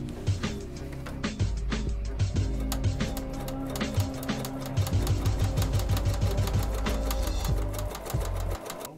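Sewing machine stitching V-Lite Velcro onto a Crye Precision JPC cummerbund, with rapid rhythmic needle clatter in bursts broken by short pauses, close and clear throughout.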